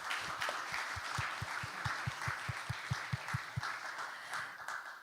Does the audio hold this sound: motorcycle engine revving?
no